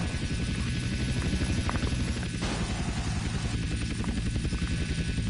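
Helicopter in GTA San Andreas Definitive Edition thrums close and loud with rapid rotor chop, a steady pulsing drone throughout.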